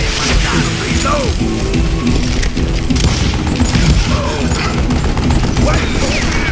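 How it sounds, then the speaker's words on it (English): Gunfire and mechanical reloading clatter in the Call of Juarez Gunslinger western shooter, loud and dense with crashing shots over a busy game soundscape. "Hey, I gotta reload."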